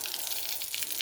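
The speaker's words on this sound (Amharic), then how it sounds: "ውሃው መጣ ቆየ እንጂ እስከጨረስኩ" Tap water runs in a steady, even stream that holds at a constant level for about a second, quiet and close with no voices.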